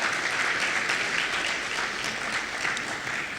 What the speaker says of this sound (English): I'd like you to individually assess yourselves with a round of applause